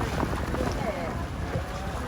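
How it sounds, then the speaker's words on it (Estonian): Steady wind blowing at the seaside by a harbour breakwater in Antalya's old town, Turkey, a constant broadband rush with low rumble and water wash, with people talking nearby. "Tuul on päris mõnus."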